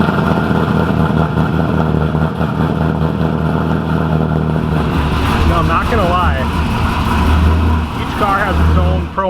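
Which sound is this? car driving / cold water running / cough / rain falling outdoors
car driving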